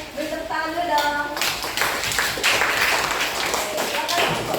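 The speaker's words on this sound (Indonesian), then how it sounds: "Beri tepuk tangan dulu dong" Classmates clapping for a student group's presentation, a burst of hand claps starting after a brief tonal sound, continuing steadily at moderate loudness.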